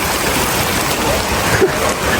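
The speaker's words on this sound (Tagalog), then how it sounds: "Ulan pa po." Rain falls steadily, a dense, even hiss with no break and no voices.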